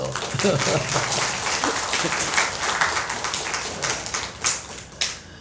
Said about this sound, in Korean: 박수 치려면 좀 크게 쳐주세요.